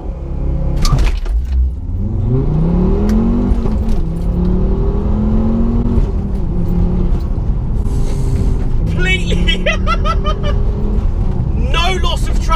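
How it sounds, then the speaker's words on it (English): A four-wheel-drive Mk2 Ford Focus ST tuned to 320 bhp launches hard, its engine note rising steadily as it accelerates through the gears, loud and close inside the cabin, with a person talking over it. "So what you guys really want to see is a launch at the end of the day, don't you? So let's try it. Four-wheel drive launch."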